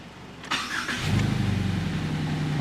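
A 2018 Subaru Crosstrek with a junkyard replacement engine cranks briefly, catches, and settles into a steady, close idle with a slightly uneven pulsing note; no talking.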